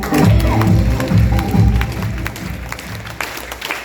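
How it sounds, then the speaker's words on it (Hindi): A crowd applauds loudly with dense, steady clapping that stays strong throughout, a few sharper claps standing out near the end. "एक शानदार खतरनाक ताली होनी चाहिए"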